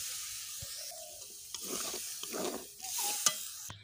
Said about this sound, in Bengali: তাই আমি সামান্য পরিমাণে জল দিচ্ছি।